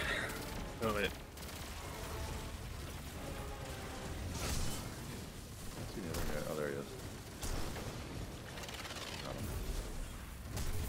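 Rapid gunfire fills a Destiny 2 raid encounter, with bursts of shots and mechanical clatter layered over dense background noise while players talk throughout.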